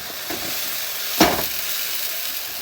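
Steady sizzling hiss of curry mix frying in a hot pan over high heat, with one sharp spitting crackle standing out midway.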